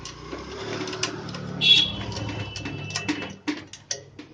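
A bolt is tightened on the fan frame of an air cooler fitted with a high-speed motor, giving close, irregular metallic clicks and taps over a low background hum, with a brief whine partway through.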